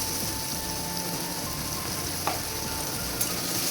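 Potatoes sizzle in oil under a lid after a cumin tempering, a steady, moderately loud hiss that continues evenly, broken by two faint clicks.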